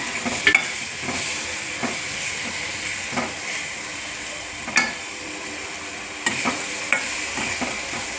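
A garlic gojju mixture in a pan on low heat gives a soft, steady sizzle, with a scattering of light scraping stirs from a spoon at irregular intervals.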